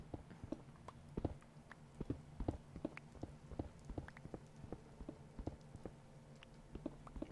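Horse hooves clip-clopping in the Minecraft video game: a steady sequence of quiet, sharp hoof knocks in a walking rhythm over a faint low hum, with no talking.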